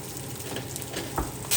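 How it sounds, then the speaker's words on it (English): Food sizzles steadily in a hot pan, a continuous crackling hiss with a brief louder splutter near the end. "Then Mom's frying it."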